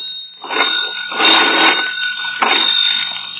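Old-time radio telephone bell sound effect, rung in bursts by a hand-cranked country-store phone: two long metallic ringing bursts and a shorter third, loud and close over a faint steady hum.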